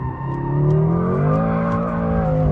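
A Mercedes-Benz SL63 AMG with a twin-turbo V8 slides sideways with stability control off, its rear tyres squealing in a loud, sustained wail over the engine's steady roar.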